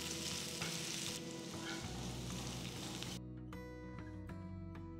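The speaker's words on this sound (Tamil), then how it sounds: "மீன் பொரிச்சதும் அதே பேனில் ஒரு வெங்காயம் மெலிசா நறுக்குனது, 3 பச்சை மிளகாய் கீர்னது போடுறேன்" Sliced onion, slit green chillies and curry leaves sizzle and fry in a pan just used for frying fish, a steady crackling hiss with stirring, settling into a quieter sizzle partway through.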